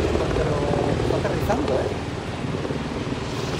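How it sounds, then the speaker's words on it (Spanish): Helicopter passing overhead above a street with a bike lane in Australia, a steady loud rotor and engine roar filling the whole clip with no pauses. "tengo un helicóptero justo encima mío ahora"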